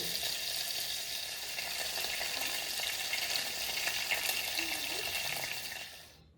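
Vegetables fry in a pan with a steady, close hissing sizzle that continues evenly and then fades away in the final moment.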